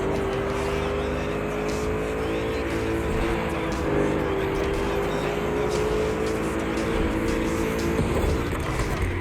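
Car engine in The Crew Motorfest racing game, a steady sustained drone with a whining tone that holds and shifts slightly in pitch as the car drives continuously, loud and close, with faint tire noise and no talk.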